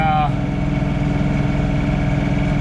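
Diesel engine of a John Deere 3046R cab tractor, its rear tires weighted with beet juice, idling at night in light snow, a steady close rumble with a brief voice at the start.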